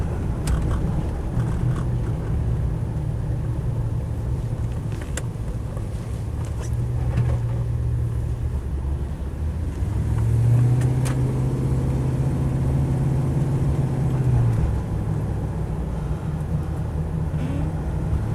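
A Land Rover Defender 90 50th Anniversary with a 4-litre V8 drives along, its steady engine drone and road rumble continuous and fairly loud, swelling midway as it accelerates, with wind buffeting throughout.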